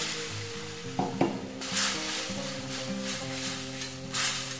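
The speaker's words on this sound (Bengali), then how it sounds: "একটু মশলা ধোয়া জল দিয়ে এটা ভালো করে ভেজে নিতে হবে।" Cauliflower frying in a pan with turmeric powder and a splash of spice-rinse water gives a steady, close sizzle, with a few sharp stirring scrapes near the one-second mark and soft bubbling hiss throughout, no talking.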